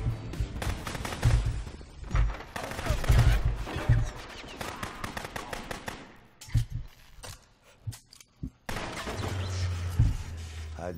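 Gunfire in the Rogue Warrior game during a bridge fight: dense bursts of rapid automatic shots crackle repeatedly with deep booming hits, pausing briefly and resuming, loud and close.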